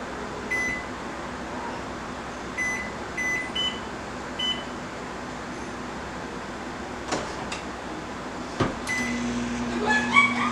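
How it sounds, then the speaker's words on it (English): A microwave hums steadily while defrosting butter, with several short electronic beeps from the keypad, then a door clunk and more beeps near the end, close by and with no talk. "I'm going to just put it in the microwave and put it on defrost"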